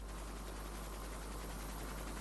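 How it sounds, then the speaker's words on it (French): Army rescue helicopter, a steady low rotor and engine drone that is faint and distant and holds evenly throughout, with no voices. "Cet hélicoptère de l'armée est le moyen le plus rapide pour porter secours aux sinistrés."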